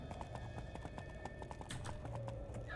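Horse hooves in the video game Two Worlds during a horse teleport, a steady rhythmic clip-clop of trotting at moderate loudness, continuing without a break over game background sound.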